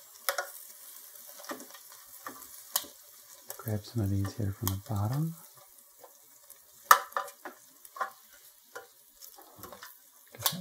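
Buffalo chicken wings sizzle in an air fryer basket with a faint, soft crackle. Scattered clicks of handling cut through, and a person speaks briefly in the middle.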